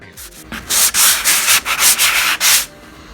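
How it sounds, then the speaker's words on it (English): A sanding sponge rubs lightly over a drywall patch in a quick series of scratchy, hissing strokes, close and fairly loud, with no talking. "take our sanding sponge, and then we're just going to lightly sand over all this"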